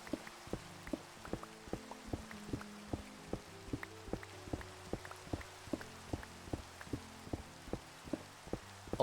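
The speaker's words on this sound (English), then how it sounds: "Oh great, it's raining." Rain falls in the video game Minecraft as a soft, steady patter, with regular tapping drops and faint low tones running quietly underneath, no talk.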